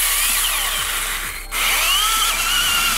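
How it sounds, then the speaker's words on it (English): A 3-inch hole saw drills a hole through a homemade metal-melting foundry lid, a loud continuous power-tool whine with shifting pitch and a brief dip midway, close up with no talking. "So now you're gonna need a 3-inch hole saw."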